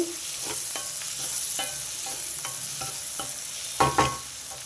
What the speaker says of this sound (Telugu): ఇదంతా ఒకసారి కలుపుకోవాలి ఉల్లిపాయలు ఇంకొంచెం మగ్గాలి ఉల్లిపాయలు వేగిపోయినాయండి